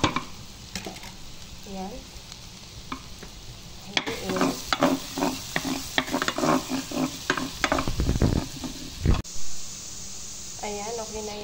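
Garlic frying in butter toward golden brown, a steady close sizzle under a Tagalog-speaking voice, with scattered stirring scrapes and clinks of a pan.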